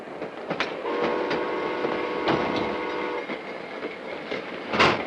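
A train rumbles steadily with a sustained horn-like tone held for a couple of seconds, over clattering rail noise and occasional sharp clanks.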